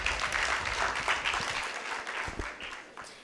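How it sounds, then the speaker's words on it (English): A school debate audience claps steadily, fairly loud at first and gradually thinning out toward the end. "A round of applause for them."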